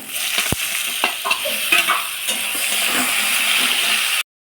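Boiled hog plums stirred into a pan of frying garlic and dried chillies give a steady close sizzle, with scraping spatula strokes over it, until the sound cuts off abruptly near the end.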